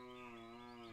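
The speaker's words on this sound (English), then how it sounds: "It's one grumpy cow in the background." A single long, low cow moo drones steadily from just behind a cricket ground, harmonically rich and sustained for the full second, with no talking over it.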